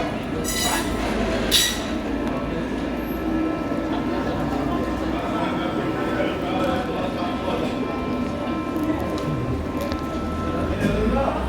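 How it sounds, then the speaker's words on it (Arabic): The Atlas passenger train between Tangier and Fez rumbles past near Ksar El Kebir, Morocco, with steady broadband roar and low rail noise, a few metallic clinks, while people talk over it. "قطار الأطلس الذي يربط طنجة بفاس سيمر الآن"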